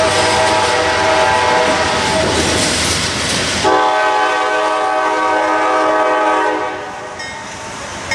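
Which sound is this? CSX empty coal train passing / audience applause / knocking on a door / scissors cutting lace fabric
CSX empty coal train passing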